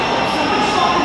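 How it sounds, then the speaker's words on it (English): Steady loud rumble of a London Underground train in Farringdon station, a continuous roaring wash with metallic rail noise filling the platform. "a lot of train noise"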